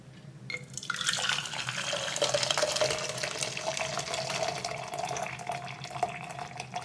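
Hot water poured steadily into a bowl for cake batter, a continuous splashing stream that starts abruptly and runs loud and close for several seconds without talk.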